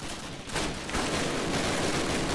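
Gunfire from a sniper rifle in Call of Duty: United Offensive, a dense, loud burst of shots and roaring battle noise that swells after a brief lull and continues without pause.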